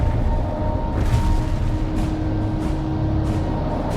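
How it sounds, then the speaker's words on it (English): Explosives detonating during a World in Conflict battle mission, a deep rolling boom with rumbling low-end that swells and lingers, loud and continuous, with a few sharper crackles of secondary blasts. "Romanov, the explosives will detonate in 3, 2,"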